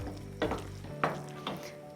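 Chopped scallions sizzle in a pan of breakfast risotto while a spoon stirs and scrapes a few times, a steady low frying hiss broken by soft clatters.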